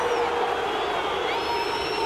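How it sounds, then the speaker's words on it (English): A large football stadium crowd roars and whistles after a penalty is given for Klinsmann being brought down, a loud sustained wall of jeering noise. "The crowd think Klinsmann dived."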